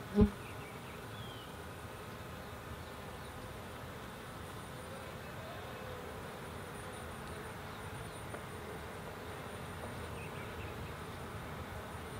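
A honey bee swarm buzzes steadily throughout a first hive check after swarming, a dense, continuous drone of many bees close by with one brief knock at the start.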